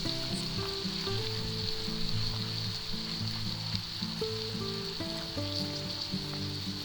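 Minced garlic sizzles in a hot frying pan, dropped into a cleared spot among sausage, peppers and onions for a frittata, a steady close crackle running throughout beneath a soft melodic background of music.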